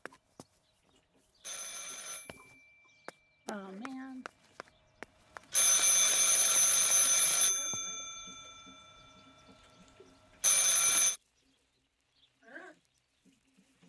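A telephone rings in the video game Martha is Dead: three loud, bright bursts of ringing separated by quiet gaps, with a man's brief spoken reaction between the first and second rings.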